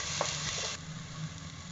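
Onion and tomato sautéing in a pan for dal fry, a close, steady sizzle with a brief stirring scrape, short and continuous.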